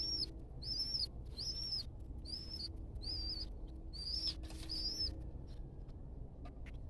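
Pigeon heard in short bursts of soft wing flapping, about six quick flurries spaced roughly half a second apart, close and fairly quiet over a low background hum.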